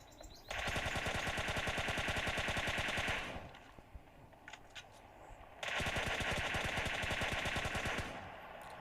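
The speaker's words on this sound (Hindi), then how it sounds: "जिसे भी हम शॉट गन का शॉट देकर सीधे परलोक सिधार देते हैं" Gunfire in PUBG Mobile Lite, where a shotgun is used: two long bursts of rapid, evenly spaced shots, each a few seconds, separated by a quieter gap with scattered clicks.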